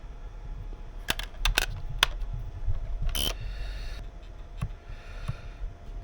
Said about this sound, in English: take the battery out